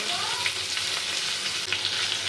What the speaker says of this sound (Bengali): পটলটা ভাজা হতে হতে আমি একটা মশলা তৈরি করে নেবো।